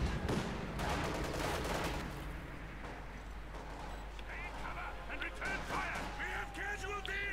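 Gunfire from units opening up on a Raketenwerfer rocket launcher in the video game Company of Heroes 2: dense overlapping shot bursts for about two seconds, then a quieter battle din with a commentator talking over it.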